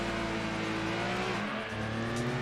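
Race car engine in Gran Turismo 2 on the Trial Mountain circuit, revving loudly and continuously with a whining pitch that dips around a gear change, then climbs again, close and alone.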